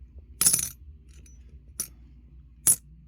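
Silver half dollars, including 1966 and 1968 coins, drop and clink in three separate bright metallic rings, one longer at the start and two shorter ones later, close and clear with no voices.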